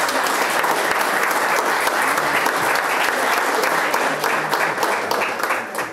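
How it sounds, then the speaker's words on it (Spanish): Audience at an awards ceremony giving sustained, loud, dense applause for the professionals, a steady wash of many hands clapping throughout with a slight fade at the end. "Un aplauso para los profesionales."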